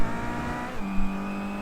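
A race car engine drones steadily at high revs on a flying qualifying lap at Okayama in the iRacing sim, a BTCC 2013 touring car heard from on board, shifting pitch once midway.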